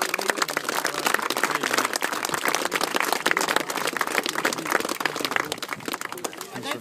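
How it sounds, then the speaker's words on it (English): A crowd at an under-16 Roinn A hurling championship final presentation gives a round of applause, dense steady clapping that fills the whole stretch with no voices standing out. "So please have a good round of applause here."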